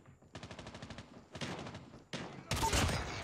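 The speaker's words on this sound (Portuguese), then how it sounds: "Vamos, vamos ver o sniper, como é que tá a sniper do M2" Gunfire from an M2 sniper rifle in Call of Duty Mobile, heard as several loud sharp bursts in quick succession that grow denser and louder toward the end, with no talk.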